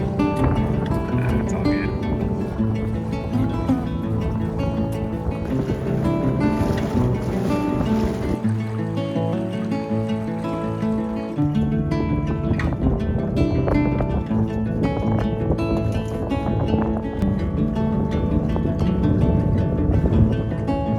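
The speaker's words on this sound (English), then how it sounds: "We're making a beat back upwind," A sailboat beats back upwind on Priest Lake, with steady rushing wind and water against the hull and a constant loud wash that continues without a break.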